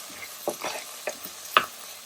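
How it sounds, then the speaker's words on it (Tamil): Masala frying in a pan, stirred in a few short scrapes and sizzling bursts, close and fairly quiet with no talking. "கொஞ்சமாக மசாலா போட்டு அப்படியே வறுவல் பண்ணேன்."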